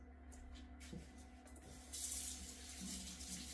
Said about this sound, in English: Let me wash my hands real fast